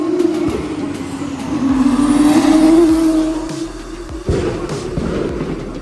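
A loud race car exhaust drones and roars close by, rising in pitch as it accelerates, with a sharp crack near the end.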